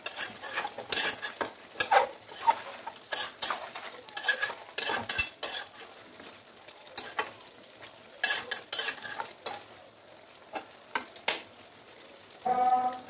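Meat frying in a pan is stirred with a utensil, giving repeated scraping clinks against the metal in uneven bursts over a faint, steady sizzle, close and clear.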